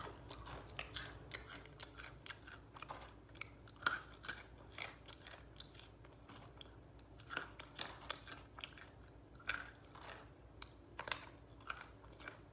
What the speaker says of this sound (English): this crunchy breading around the nut with Taki dust on it. So it's not just nut, it's extra crunchy.